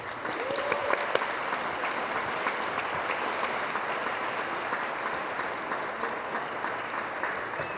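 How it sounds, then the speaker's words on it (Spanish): A crowd applauds the COPRED team at the organisation's fifteenth-anniversary ceremony, sustained even clapping from a large audience lasting nearly eight seconds with no speech over it. "un aplauso más al equipo de COPRED."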